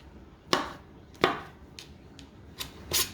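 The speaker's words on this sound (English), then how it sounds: "I guess I've never sliced a mushroom." A knife slicing through mushrooms on a cutting board, with six crisp, close cuts at an uneven pace and quiet pauses between them.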